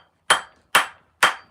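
A hammer strikes three times in a steady, evenly spaced rhythm, each blow a sharp, loud impact with a short ringing decay, close up and with no voices.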